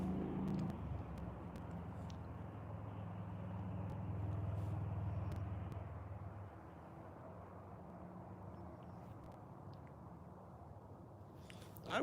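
Morning road traffic passes at a distance, a faint low rumble that eases and grows quieter partway through, with a few soft clicks nearby and no talking.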